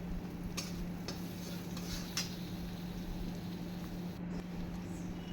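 A spoon stirs Kerala-style prawn curry with tomato and masala in a pan, producing faint scraping strokes and occasional light clicks against a quiet kitchen hum.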